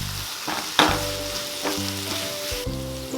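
Carrot and capsicum stirred in a hot frying pan, with a steady sizzle and frying hiss broken by several scraping and clacking spoon strokes against the pan; no voices.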